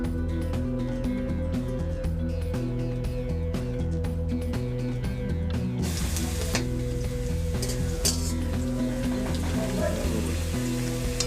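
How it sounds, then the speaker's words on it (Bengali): Onions frying in hot oil with bay leaf in a pan for a Bengali ol data dish, a steady close sizzle running throughout under a continuous loud musical backing. "পেঁয়াজগুলো বাদামি কালার হওয়া অবধি ভেজে নেবো।"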